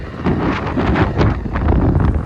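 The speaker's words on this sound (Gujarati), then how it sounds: "આપણી બાઇક જાય છે મસ્ત અને ઠંડો ઠંડો પવન આવે છે" Wind rushes and buffets the microphone while riding a Hero Splendor motorbike, a loud, rumbling roar that swells and dips in gusts.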